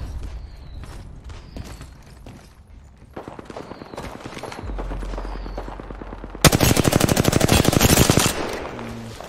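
Rapid automatic fire from the Golden Volt gun in a shooter game, quick rhythmic shots at moderate volume that swell into a loud, dense close-up burst near the end before cutting off.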